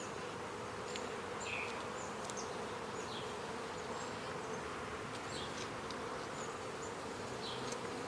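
Honey bees buzz steadily around an open hive of a very small colony during a frame inspection, a dense continuous drone close by with a few individual bees passing nearer, no one talking.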